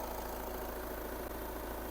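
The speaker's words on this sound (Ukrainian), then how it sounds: "Дуже гарно працює двигун тихенько." An Audi A5 2.0 TDI diesel engine with a manual gearbox idles with a steady, even hum, continuous and unchanging throughout.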